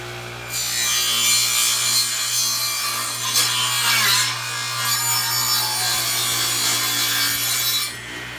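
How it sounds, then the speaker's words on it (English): A hand saw trims plywood braces on a sawhorse leg, a loud close rasping scrape that runs almost continuously for several seconds before stopping, with no talking. "now I've trimmed off the plywood braces on all 4 legs"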